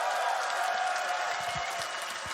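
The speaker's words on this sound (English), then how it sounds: "and that crowd, let them hear it." A crowd at the TI 2023 Dota tournament cheers and applauds in a dense, steady wash of noise with some brief claps showing through.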